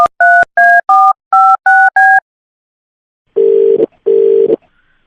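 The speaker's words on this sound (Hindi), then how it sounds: "मैं मिथिलेश को फोन कर रहा हूँ।" Seven quick keypad beeps of a phone being dialed, followed after a pause by two long ringing tones on the line.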